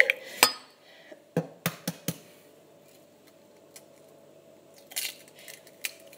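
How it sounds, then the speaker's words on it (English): Eggs cracked one at a time into a bowl with a little vegetable oil, giving sharp knocks and clinks on the bowl rim followed by quiet sloshing, several close crisp taps clustered early and a few more near the end. "You will need to grab your 2 eggs. Just chuck one in at a time, obviously."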